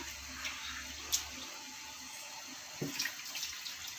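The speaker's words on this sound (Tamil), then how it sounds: "ஒரு அலசு அலசிட்டு ஊற வச்சு இப்போ தண்ணியை வடிகட்டிட்டு அப்படியே சேர்த்துக்கலாம்" Water is drained from soaked jeera samba rice, giving a soft, steady trickle and faint splashing close by, with a couple of light clinks from the vessel.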